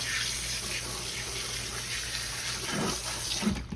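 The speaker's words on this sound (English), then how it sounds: "Wash my hands off here." Hands are washed under a running kitchen tap after seasoning shrimp, giving a steady, close splash of water that runs the whole time, with small shifts as the hands move under the stream. Nobody speaks.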